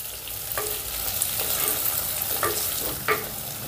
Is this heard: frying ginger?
yes